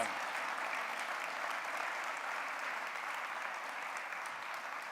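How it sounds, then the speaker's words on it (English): Audience applause at the close of an evening civic lecture event, a steady, dense wash of clapping that holds evenly for the full stretch without talk over it. "Big round of applause."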